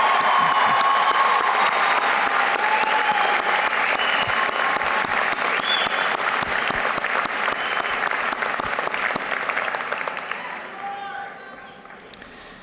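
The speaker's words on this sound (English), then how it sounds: "Could I ask that we would just have one of the loudest rousing applause that we can have for my faculty colleagues" A commencement audience gives faculty a long, dense burst of applause that holds steady and loud, then thins and fades over the last couple of seconds.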